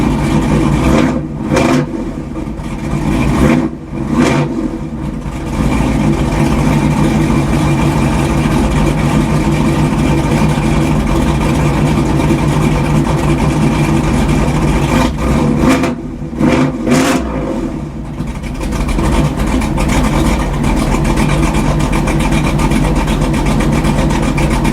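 A third-generation Chevrolet Camaro V8, a little cold-blooded, runs steadily after a Hughes 3000 stall torque converter install, a loud continuous engine note close by with a few brief revs and dips.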